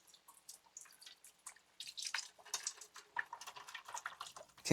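Cleaning solution poured from a bottle into a container while restoring a vintage Dremel Model 8 jig saw, giving a close, quiet run of dripping, splashing liquid that grows louder and busier toward the end, with no talking.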